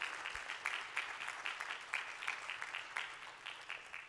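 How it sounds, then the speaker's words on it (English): An audience claps for a panel at a community talk on housing and health, a faint, steady patter of many hands with no voices over it. "Could we do one more round of applause for the panel?"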